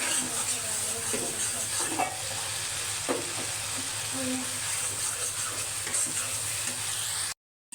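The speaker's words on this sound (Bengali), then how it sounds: "মশলাটা ভালো মতো কষাই নিতেছে" Spice masala being sautéed and stirred in a pan, with a constant close sizzle broken by scraping and stirring clatter, before a sudden brief drop-out near the end.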